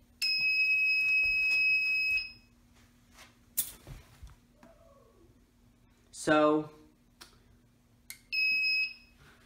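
A shrill electronic fire alarm blares in a sustained tone, stops, then sounds again briefly later, with a voice and some clatter in between.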